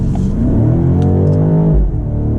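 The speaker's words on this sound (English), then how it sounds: "we're gonna do an acceleration just up to the highway speed here" A 2023 BMW X7 M60i in Sport Plus mode accelerating up to highway speed, its engine note rising steadily as loud deep rumble from inside the cabin, with a gear change near the end.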